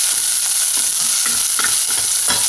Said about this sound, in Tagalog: Magigisa lang natin maigi yung ating garlic.